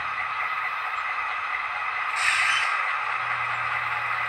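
An HO scale Intermountain SD40-2 model locomotive with a DCC sound decoder gives a short air spitter hiss, a brief burst of bright noise over a quiet steady background hum.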